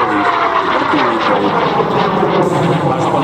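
A loud, steady propeller-engine drone from a 1950s aircraft at the SIAF air show in Slovakia holds at constant level throughout, with a faint voice murmuring beneath it.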